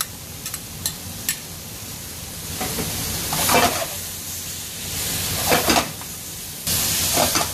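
Onion masala with tomato sizzling in a pan for a tuna fish curry, a steady close frying hiss with several louder bursts of crackle as it is stirred.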